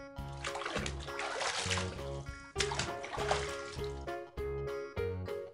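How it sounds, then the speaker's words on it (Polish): Water splashes and sloshes in a cartoon bathtub in several bursts, mixed into lively background music. "Wanna."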